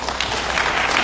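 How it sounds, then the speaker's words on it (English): Applause from an audience at a civic gathering on the switch from green barcoded ID books to smart cards, a steady dense patter of many hands filling the short moment with no voice over it. "I think we really need to give them a round of applause"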